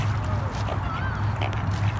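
Ducks, including a white one, quack a few times nearby at a park lake over low outdoor rumble and murmuring, the calls short and scattered.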